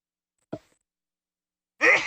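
In a quiet ROV Hercules dive control room, a brief faint breath comes first, then after a pause a single loud, breathy sneeze bursts out close by.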